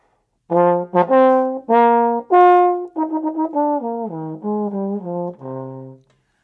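A trombone plays a short etude phrase of distinct sustained notes, some detached, rising then falling, clear and close with no other sounds.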